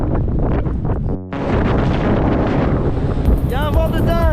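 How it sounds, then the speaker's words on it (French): Strong wind buffets the microphone outdoors, a loud, continuous roar that drops out for a moment and then returns with a voice speaking over it. "Il y a un vent de dingue."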